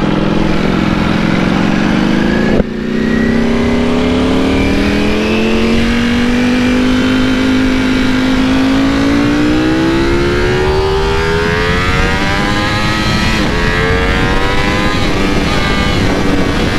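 Ducati V4 Speciale motorcycle engine running loud and close, its pitch climbing steadily through a long rev as the bike rides off, with an abrupt knock early on.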